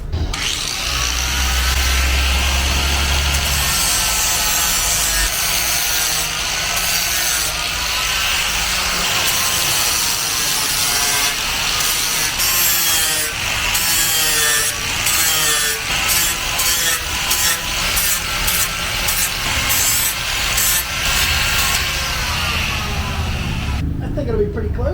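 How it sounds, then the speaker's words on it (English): Flap disc on an angle grinder sanding and contouring a wood piece for a 1962 Chevy C10 pickup bed, a steady loud abrasive whir running continuously with scraping texture throughout. "Now I just got to sand and contour it a little bit the way I like with my flapper disc."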